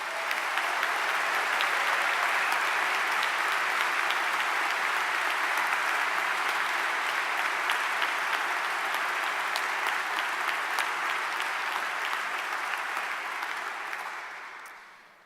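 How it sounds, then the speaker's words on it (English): Sustained applause from a large audience at a 2019 university honors convocation, greeting student award recipients: a dense, steady wash of clapping hands that holds evenly for about fourteen seconds before tapering off at the end. "Let's give all of the student award recipients one final round of applause."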